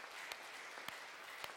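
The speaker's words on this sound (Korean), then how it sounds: "우리 두 분 격려하며 하나님께 영광의 박수 올려드리겠습니다" A church congregation claps during a Sunday service, a soft, distant patter of applause with a few louder individual claps standing out at regular intervals.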